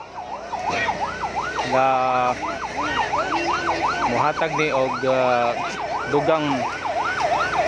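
A wailing fire truck siren at a burning public market in Cogon, close and loud, cycling steadily up and down while horns blare and people talk over it.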